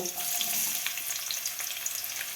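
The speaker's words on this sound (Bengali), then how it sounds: "কড়াইয়ে তেলটা গরম হয়ে গেছে। এরপর আমি পেঁয়াজগুলো ভেজে নেব।" Onions frying in hot white oil in a wok, a bright, crackling sizzle with scattered pops, close and steady throughout.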